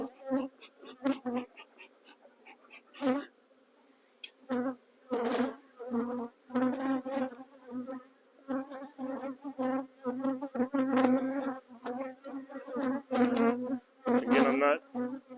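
Honeybees buzz around an aggressive hive with wax moths and hive beetles, heard as close, intermittent buzzing bursts of individual bees passing near, separated by short quiet gaps.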